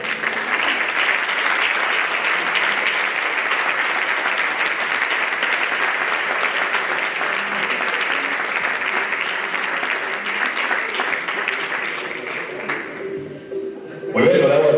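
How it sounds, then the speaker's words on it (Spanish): Dense, sustained applause from a crowd at a mountaineering federation award gala, loud and even for most of the stretch before tapering off, with a voice cutting in at the very end. "Fortes aplauso"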